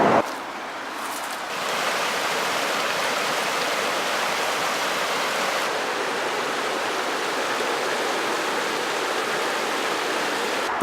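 A muddy river creek rushing steadily below a roadside bank, a loud continuous watery roar that holds evenly throughout with no talking.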